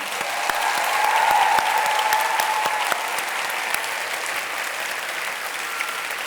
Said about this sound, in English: Can we have a round of applause for them, please?